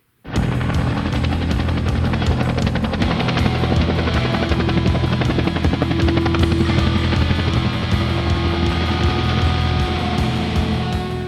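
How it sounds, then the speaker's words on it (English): A flying 1:35 scale model Bell UH-1 Iroquois Huey helicopter starts up and runs loudly and steadily, with a continuous rotor buzz and whine close by. "the helicopter still flies pretty much like it did before"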